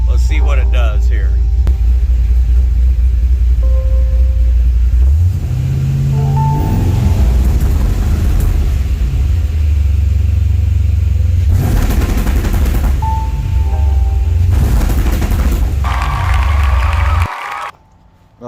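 LS-engined wagon revving hard against an MSD two-step launch limiter, heard from inside the car: a deep idle rumble, then repeated loud popping, crackling limiter bursts and rising revs, with talk over parts of it.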